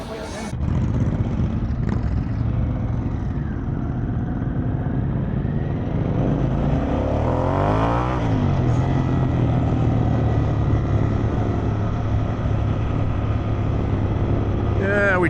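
Harley-Davidson Pan America motorcycle with a Vance & Hines exhaust idles and runs outdoors at a roadside market, a steady deep engine rumble throughout with a vehicle sweeping past midway and people talking nearby.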